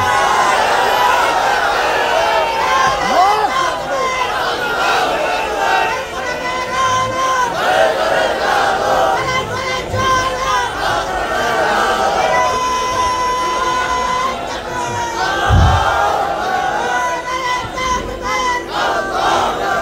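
A large crowd at an Islamic sermon gathering shouting takbir in unison, loud, sustained massed voices rising and falling in waves throughout, with a brief thump partway through.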